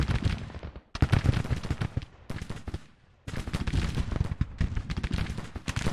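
Dense musket and cannon fire from a Civil War battle in the strategy game Grand Tactician: The Civil War, a loud, continuous crackling volley broken by two short lulls before resuming at full intensity.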